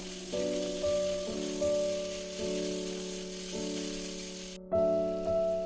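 Ginger and garlic paste sizzles and fries in a pan, with a soft steady crackle under repeated tonal scraping strokes of a spoon stirring the mix, close and moderate, with no voices.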